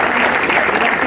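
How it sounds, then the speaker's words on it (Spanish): Applause from an audience at a groundbreaking ceremony for a university clinic, steady, dense clapping filling the whole moment without a break. "les voy a dar un aplauso"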